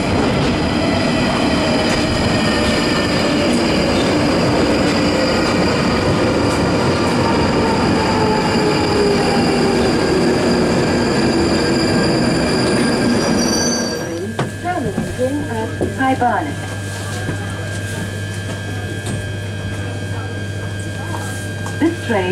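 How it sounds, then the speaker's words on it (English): London Underground Northern Line tube train running loud and close, with steady rumbling, whining wheel noise and rail clatter, then a change to a quieter idling hum with a steady tone and a few clicks. "This train is about to depart."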